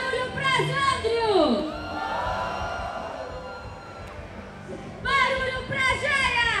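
Rap battle crowd at Rap In Cena, Planeta Atlântida, cheering and whooping for a rapper, loud shouts and rising whoops with an MC's voice in between, dipping and then swelling again.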